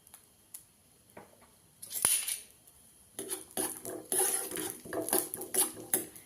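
Cashews are dropped into a stovetop pan of a little ghee: a few light clinks first, then a burst of metallic rattling and sizzling patter as the nuts hit and shift in the hot pan, fairly close.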